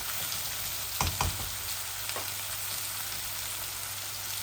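Onions fry with chili spices in a pan, giving a steady soft sizzle with a few brief clatters of stirring near the start, close and fairly quiet, with no talking.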